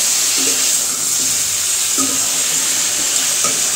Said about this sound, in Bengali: এই যে এখানে ঝোলের জন্য জল দিয়ে দিচ্ছি